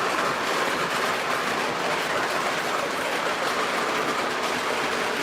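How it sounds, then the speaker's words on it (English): Model trains running on a track, a steady, fairly loud rolling rumble with faint rhythmic clatter from the wheels, continuous throughout with no talk. "And, running trains."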